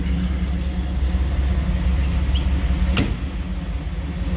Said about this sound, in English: You can see it's idling at about 1100 RPM.